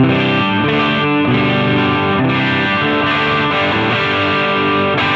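An electric guitar through a Strymon Iridium amp and cab simulator with its drive turned up, sustained distorted chords ringing loud and continuous with no voices.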